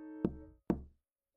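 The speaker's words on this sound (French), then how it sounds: "Il frappa à la porte." Two firm knocks on a door, spaced about half a second apart, each ringing briefly with a hollow resonance before fading into silence.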